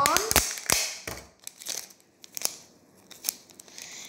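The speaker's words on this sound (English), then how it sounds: "Tape it on." Tape is pulled, torn and pressed onto a homemade frisbee. There are sharp close-up rips and crinkles in irregular bursts, some separated by quieter gaps.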